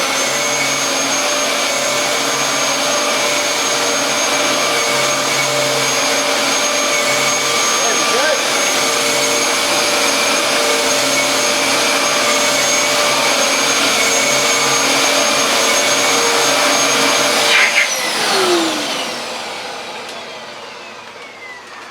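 Dyson vacuum cleaner sucking up sand from a floor, a loud, steady high-pitched motor roar held for a long stretch before winding down near the end.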